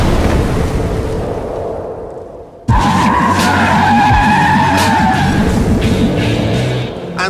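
A Toyota GT86 on skinny Prius-type tyres skids as its tail slides out at about 30 mph, a loud sustained tyre squeal cutting in abruptly over engine noise and continuing for several seconds.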